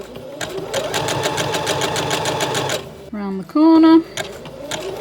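A sewing machine stitches a rope bowl in quick steady bursts, its rapid needle rhythm running for several seconds before stopping, followed by brief higher mechanical whirs, while a person talks over it.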